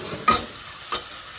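A splash of BIR-style curry base hits hot oil in a pan for a restaurant-style chicken curry, giving two quick sizzling bursts over a low, steady frying hiss, close and brief, with no voices.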